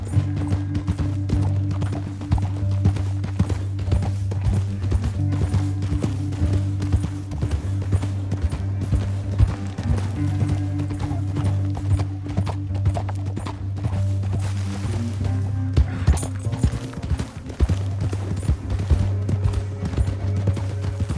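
Horse hooves gallop at a steady, rapid clip-clop in Red Dead Redemption 2, loud and continuous throughout, over a low rumbling game soundtrack with occasional horse snorts.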